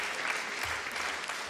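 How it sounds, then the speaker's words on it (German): Brief, dense audience applause follows an alphorn performance on a Schlager TV show, a steady wash of clapping from a large crowd. "Bleibt da, das ist euer Applaus."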